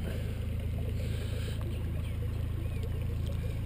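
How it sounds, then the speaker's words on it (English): A ski boat motor hums steadily on the water, a continuous low droning engine with constant loudness across the clip and no voices. "Ski boat."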